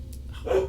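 A dog gives one short, excited bark near a door, fairly close, rising out of quiet room noise at the very end.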